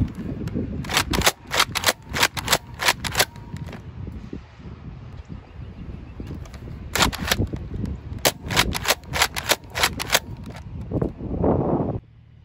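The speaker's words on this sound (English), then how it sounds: "I'm going to finish off with a little bit of slam fire." Nerf Rough Cut foam-dart blaster slam firing outdoors: rapid bursts of sharp, loud pneumatic pops in quick clusters, with brief pauses between volleys, close to the listener and free of talk.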